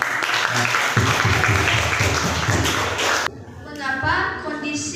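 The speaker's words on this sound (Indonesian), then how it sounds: "Silakan kita beri aplaus dulu buat" A classroom applauds a group's presentation in a school discussion lesson: dense, close clapping with thumps and shuffling for about three seconds, then cutting to quieter room sound as a voice begins speaking.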